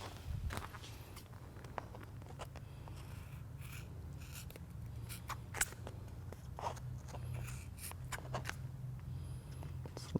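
Excess tape trimmed off a window deflector during installation on a 1993-2011 Ford Ranger, heard as scattered faint snips and clicks over a steady low hum, with no talking.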